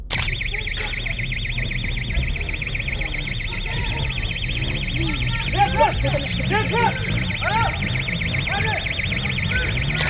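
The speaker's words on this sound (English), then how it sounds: "they suddenly heard a loud alarm coming from an area near them" A loud, continuous electronic alarm blares without pause, with muffled voices and other noises underneath.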